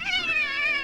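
A cat meows in one sustained, close and fairly loud call, harmonic and slightly wavering, with no talking over it.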